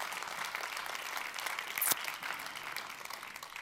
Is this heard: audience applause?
yes